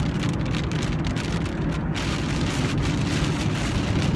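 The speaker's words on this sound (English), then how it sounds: "So, now it's raining harder." Heavy rain falls hard and without a break outdoors, a thick, close, constant roar of drops striking surfaces, with no one speaking.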